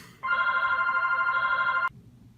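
A telephone rings indoors with one continuous electronic trill lasting about a second and a half, clear and close, cut off abruptly, over a quiet background.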